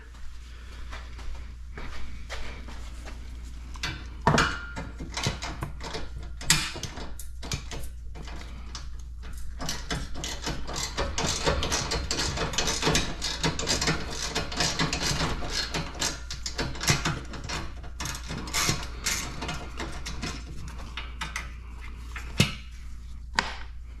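A ratchet with an extension loosens the bumper screws on a Polaris Sportsman 1000 ATV, making quick, irregular clicking and knocking close by over a steady low mechanical hum, with no talking.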